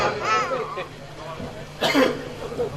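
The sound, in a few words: cough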